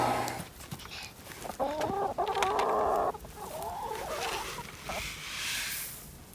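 Chickens cluck and squawk close by in a busy, uneven chorus, a few louder calls rising over the softer clucking.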